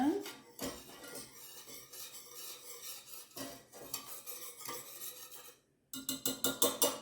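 A whisk scrapes and clinks around a pot as poultry seasoning is stirred into gravy, rhythmic and close, with a voice talking over part of it and quicker strokes near the end.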